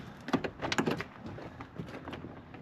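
An old Ford F250 Powerstroke truck door shuts with a couple of solid thumps and latch clacks up close, followed by softer rattling movement, with no voices.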